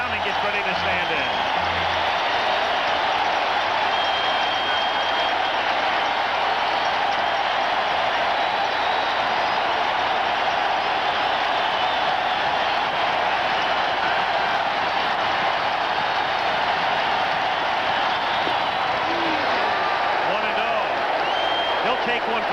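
Baseball stadium crowd at a Red Sox versus Angels game rising and applauding, a broad sustained roar and clapping filling the whole stretch, with a commentator talking over it.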